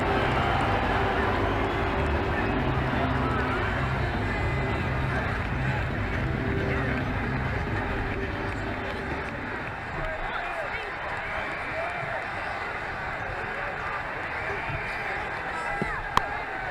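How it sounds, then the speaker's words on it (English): A stadium crowd in the Ashes Cricket 2009 video game roars steadily after a six is hit into the stands, with a continuous loud cheer that eases slightly partway through. "That's in the stands, 6 runs. The crowd really enjoyed that."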